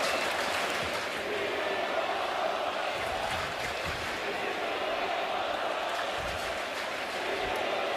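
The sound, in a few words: baseball crowd at Citi Field mocking the team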